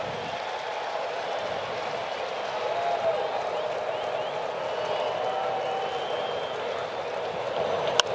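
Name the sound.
baseball stadium crowd applauding, Nationals vs Braves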